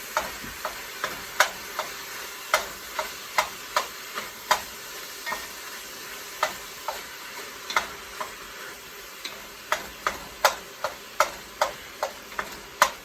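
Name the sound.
pork browning in a pan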